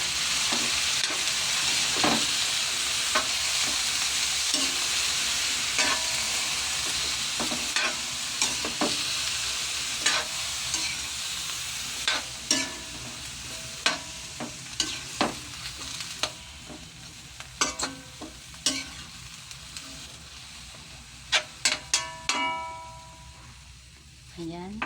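String beans sizzle and crackle in a hot pan for adobong sitaw, a steady frying hiss broken by sharp stirring scrapes and utensil taps that grow more distinct near the end.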